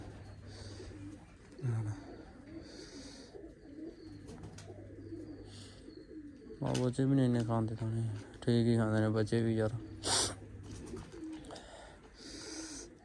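Pigeons coo softly in low, repeated murmurs throughout, while a person talks at a conversational level over them.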